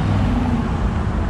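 Twin-turbo V8 Mercedes engine at a car meet, a loud, steady low rumble close by with dense broadband exhaust roar throughout the short burst.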